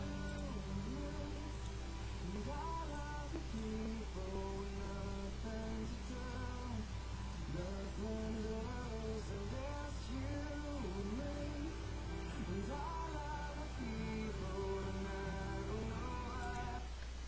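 A guitar plays the chorus of a song as strummed and picked chords, quiet and somewhat distant beneath a constant low hum and hiss that runs through the whole passage.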